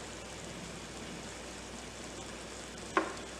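Amul butter melting on a hot tawa gives a faint, even sizzle, with a single brief clink near the end.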